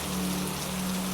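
Steady rain falls as a dense, even hiss of countless drops, constant and unbroken, with a faint low tone humming underneath.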